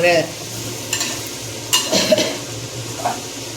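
Chilli chicken fries in a pan over medium flame, a steady sizzle broken by a few quick stirring scrapes and clinks of a spatula; close up, short and without speech.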